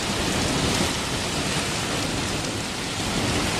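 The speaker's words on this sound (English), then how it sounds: "this is almost like one big loud thunderclap that just does not stop, that is accompanied by a symphony orchestra of other smaller thunderclaps" Heavy, continuous downpour in a severe Chicago storm, a dense steady roar of rain with low rumbling thunder blended underneath, loud and unbroken throughout with no voices.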